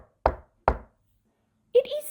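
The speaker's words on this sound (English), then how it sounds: "There is yet another knock at Mother Cat's door." Two distinct knocks on a door, spaced about half a second apart and heard alone, followed by a brief burst of voice at the end.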